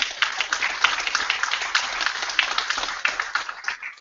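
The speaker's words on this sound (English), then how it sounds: "Yeah, round of applause." Dense, steady applause from a seated audience at a live-streamed user group meeting, many hands clapping together at close range for four seconds with no voices over it.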